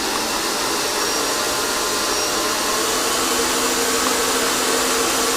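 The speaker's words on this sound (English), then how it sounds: "we're going to whip our butter till it's lovely, soft and whippy" Electric mixer whipping softened butter for a cake, a steady loud whirring motor drone running continuously without a break.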